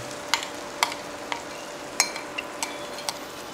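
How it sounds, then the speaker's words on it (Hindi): Yogurt masala is stirred into cooking tomatoes, a soft simmering hiss punctuated by regular, sharp taps of a spoon against the pot, roughly every half second. "मसाला डालते अपन बराबर चलाते रहे क्योंकि दही फाटे नहीं"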